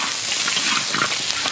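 Pig skin with star anise sizzling in hot oil in a wok, a loud, steady, close crackling fry with no voices.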